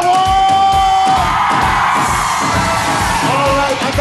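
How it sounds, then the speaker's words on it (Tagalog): A party crowd yells and whoops loudly and continuously, a dense wall of cheering voices with some banging, filling the whole stretch. "Isa nga po diyang malakas na sigawan!"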